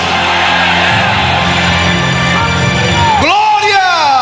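A church congregation shouts and cheers glory to God during a Brazilian evangelical service, a loud continuous crowd roar of many voices with a sharp rising whoop near the end.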